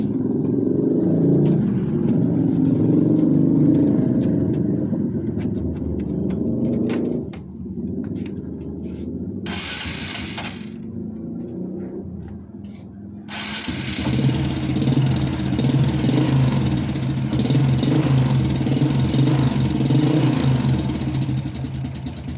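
A Honda Wave 125 motorcycle engine cranks and catches, then settles into a steady, throbbing idle up close with a brief lull before revving back up.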